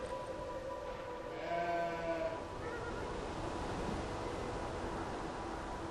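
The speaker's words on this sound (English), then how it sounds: "A lot of sheep." Sheep bleat in an animal pen in the video game Beyond: Two Souls, a couple of wavering calls rising over a steady ambient background.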